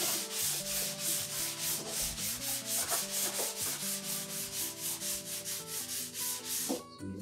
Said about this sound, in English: as I sand into this